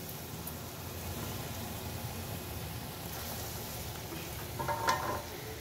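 Rash bada fritters fry in hot oil with a steady, close sizzle and crackle throughout, rising briefly near the end with a small bubbling burst.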